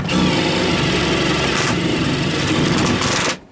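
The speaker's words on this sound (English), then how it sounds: "Now I can put my Sawzall in there, cut this way, cut that way." A Sawzall reciprocating saw cutting into a recessed can light fixture, a loud, close, continuous buzzing rasp that runs steadily for about three seconds before cutting off abruptly.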